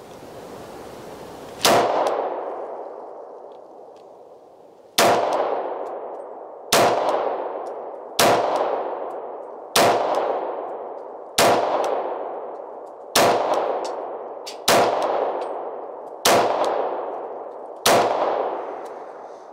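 Nine sharp pistol shots from a Sig P229, the first fired double action, crack out loud and close after a quiet stretch, each with a ringing decay, spaced at roughly regular intervals of about one and a half seconds.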